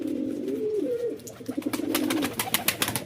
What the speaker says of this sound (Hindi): और अभी सारे कबूतर आ गए हैं बाहर